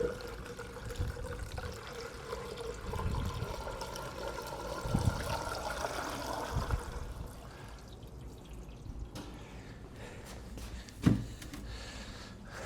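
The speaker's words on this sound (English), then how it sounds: "I hear water like running into the block." Water trickles and gurgles into the engine block of a 1956 Buick Century, a steady close pouring flow that eases off partway, with a brief knock near the end.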